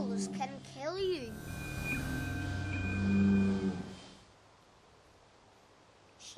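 A bull lows loudly in an open field, one long drawn-out moo with a rising, wavering pitch, close and clear for about four seconds before fading to quiet outdoor background.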